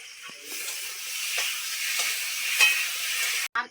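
Rice flour batter with oil being stirred by hand in a bowl for pora pitha in a village kitchen, with a steady wet swishing and soft periodic scrapes, close and alone.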